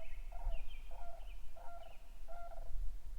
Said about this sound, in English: Got some crazy bird sounds in the background